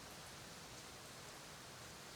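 Steady rain picked up by a microphone indoors: an even, unbroken hiss of falling drops holding at the same level throughout, with no voices.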